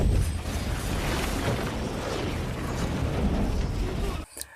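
A landmine blast in the film Wolf Warrior makes a dense, loud roaring rumble with debris crackle that holds steady for about four seconds and then cuts off abruptly.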